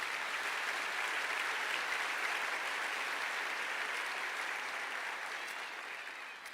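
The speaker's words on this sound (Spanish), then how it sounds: "Dale un fuerte aplauso al Señor." A church congregation applauds at a service, a steady, dense wash of many hands clapping close by that holds strongly throughout and tapers slightly at the end.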